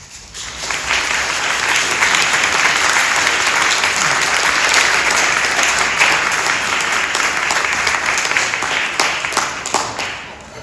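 An audience gives sustained applause in welcome of Dr. Robert Krell at a November 2024 address, with dense steady clapping that swells quickly, holds for about ten seconds and fades at the end.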